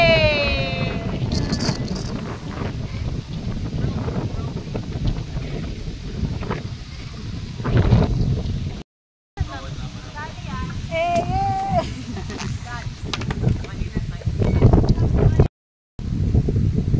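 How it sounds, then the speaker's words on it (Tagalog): Strong wind roars and buffets the microphone in gusty rumbling bursts, with people talking and exclaiming over it throughout, and the sound briefly cutting out twice. "Ang lakas ng hangin"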